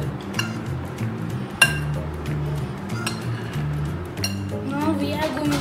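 Rawa cake batter with sugar being mixed in a bowl, with spoon clinks and taps against the dish ringing out at intervals over a constant backdrop of kitchen clatter while a person speaks throughout.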